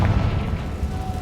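A Confringo fire spell bursts in the Hogwarts Legacy video game, a deep booming blast with a rumbling low tail that fades over about a second.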